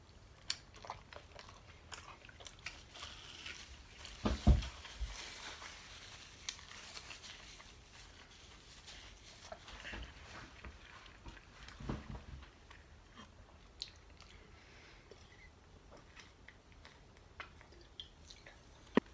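Beef taco with sour cream, guacamole and cheese being chewed close to the mic, soft wet crunching bites repeating through a quiet room, with one sharper bite early on.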